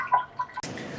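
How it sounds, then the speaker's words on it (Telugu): Water dripping drop by drop inside a clay pot water filter, a few soft close plinks followed by a brief louder splash-like burst, quiet and isolated without any talking. "అది కూడా శబ్దం కూడా చూడండి, బొట్టును పడుతున్నట్టు నీటి"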